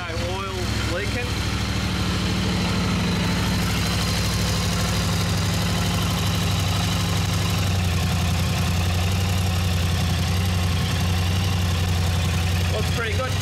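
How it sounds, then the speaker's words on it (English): A Yamaha Tenere 700 motorcycle engine idles steadily up close after an oil change, a low even throb that shifts slightly in pitch partway through, with brief talk near the start and end. "So we're going to turn her on, let her run for a minute."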